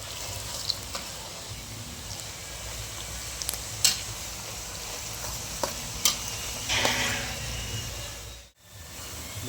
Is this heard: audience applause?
no